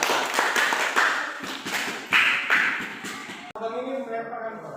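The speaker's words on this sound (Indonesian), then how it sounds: "Oke, tepuk tangan teman-teman." Students in a classroom clap in applause for a correct answer, a steady run of hand claps over several seconds mixed with voices, ending as speech takes over.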